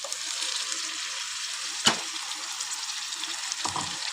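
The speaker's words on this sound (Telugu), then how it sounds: "ఇప్పుడు ఆనియన్స్ మునంకాయ రెండు మంచిగా వేగినాయి." Onions and drumstick pieces frying in hot oil in a pan, a steady soft sizzle throughout with a brief clatter near the middle and a light stir or scrape toward the end.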